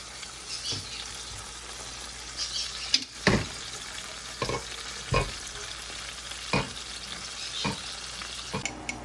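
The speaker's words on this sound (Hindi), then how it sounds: "तो हमने लहसुन डाला है और हरी मिर्चें लहसुन का पेस्ट।" Garlic and green chili paste fries with onions and okra in a pan, making a continuous sizzle broken by several sharp spatula scrapes and clinks, close and fairly loud.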